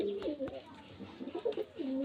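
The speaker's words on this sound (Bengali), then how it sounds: "পায়রাগুলো সেলের জন্য দেখানো হয়" Pigeons coo close by at a pigeon seller's place in Beldanga, several soft rolling calls overlapping in a steady murmur with brief pauses between them.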